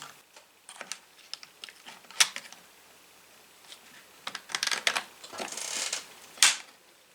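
A screwdriver sets the brake spring onto its stud on a Stihl MS310 chainsaw, producing small metallic clicks, scrapes and taps scattered irregularly, close and fairly quiet, with a sharper snap near the end.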